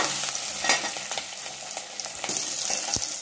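Onion, green chilli and curry leaves sizzle steadily in hot oil in a pan, a continuous close frying hiss with occasional stirring scrapes and no talk.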